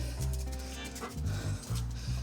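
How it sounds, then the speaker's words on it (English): Dogs pant quickly and steadily in short rhythmic breaths, with a few soft whimpers mixed in, close by but fairly quiet. "All right, gotta wrangle these dogs."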